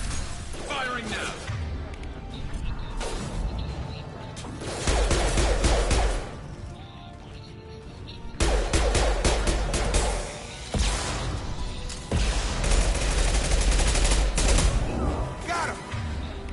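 Weapons fire in the video game Mass Effect Legendary Edition in heavy repeated volleys with crashing impacts, loud and close, broken by short lulls, while voices talk over the action.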